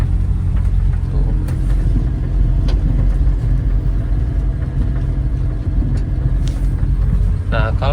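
A manual pickup truck climbs a gentle uphill road in second gear, its engine rumbling steadily and fairly close for the whole stretch, with a few faint clicks over it.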